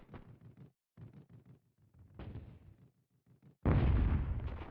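A grenade blows up in the video game Hogs of War: a loud, sustained blast rolls in near the end after broken low rumbles and thumps, filling the sound with heavy roaring noise.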